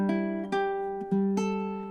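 A few plucked ukulele notes from a fingerstyle melody ring out one after another, about three gentle attacks over two seconds with sustained decay, close and solo.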